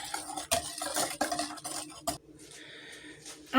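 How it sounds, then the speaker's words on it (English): Spoon stirring a thick no-bake chocolate eclair dessert mixture in a bowl, soft close scraping strokes in a quick rhythm, then a lighter faint swishing near the end, no talking. "all I'm going to do is stand here and stir"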